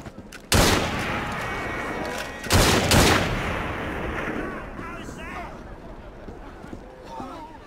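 Gunfire volley in Assassin's Creed Syndicate, two heavy booming bursts of massed shots a couple of seconds apart, each trailing off into a rumbling tail, with chaotic background sounds and faint voices after.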